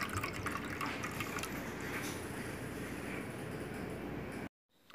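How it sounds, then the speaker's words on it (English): Thick red roucou (achiote) liquid poured into a cooking pot for a fish stew, a steady wet trickle and splash running for about four and a half seconds before cutting off abruptly. "Now I'm going to add 1/3 cup of roucou"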